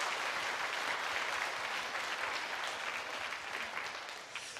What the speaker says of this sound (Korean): 하나님께 영광의 박수로 한 번 더 우리 서로 축복하시면 좋겠습니다